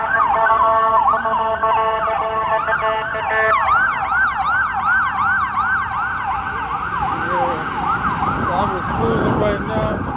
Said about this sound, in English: Right now, a lot of commotion, sirens going on right now.